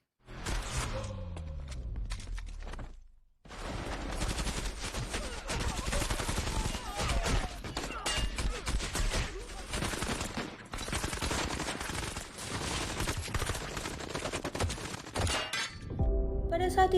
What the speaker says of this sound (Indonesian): Lalu terjadilah baku tembak.